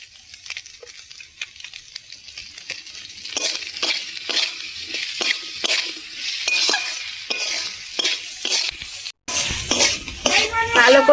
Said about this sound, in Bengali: ভালো করে নেড়ে চেড়ে ভাজা হয়ে গেছে